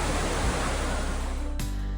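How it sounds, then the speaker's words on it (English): A tufa waterfall at Gordale in limestone country cascades with a steady broadband rush of falling water, close and continuous with no voices. "This is a waterfall made of tufa."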